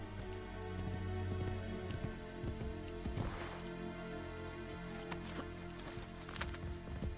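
Horse hooves in Assassin's Creed Brotherhood clip-clop at a steady pace over a background of sustained game-like tones, with scattered sharp taps.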